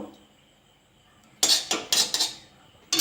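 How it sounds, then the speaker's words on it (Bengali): A metal wok set down on a gas stove, then a spoon adding ghee for a semolina halua, heard as several loud, close clanks and scrapes of metal on metal after a quiet start. "গ্যাসটা জ্বেলে কড়াটা বসিয়ে দিয়েছি। কড়াতে আমি 1 চামচে ঘি দিয়ে দেবো।"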